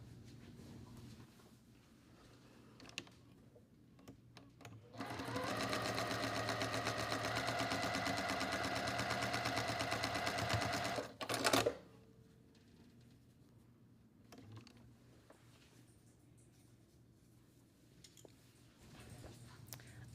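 A sewing machine stitches a seam on a quilt block in one steady mechanical whirring run of several seconds, close and moderately loud, then stops with a brief clunk in an otherwise quiet room.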